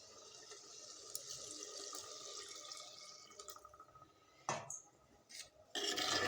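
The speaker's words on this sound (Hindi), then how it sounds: "उसमें हम पानी ऐड कर देंगे" Water pours into a pot of aloo gosht, a beef and potato curry, in a faint steady trickle with a few louder splashes and rattles near the end.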